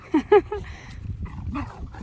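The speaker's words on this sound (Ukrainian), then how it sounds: "Коли починаєш з Лейлою якось ласкаво розмовляти, то Бела вже тут як тут гарчить" Dog vocalising in a backyard setting with another dog nearby, a couple of short, near growling-whimper bursts followed by softer grumbling noises, fairly quiet with no speech.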